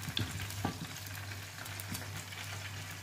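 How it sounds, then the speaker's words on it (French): Food sizzles and crackles steadily in hot oil in a saucepan, a close continuous frying hiss with a few soft pops and a low hum underneath, while chicken spring rolls fry. "c'est ma casserole que j'utilise pour faire la friture"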